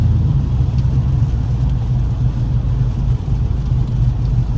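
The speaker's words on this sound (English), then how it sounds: "got it idling at about 725 RPM" A truck's 5.3 engine idles at about 725 RPM in a steady low rumble at close range, an even drone with no speech.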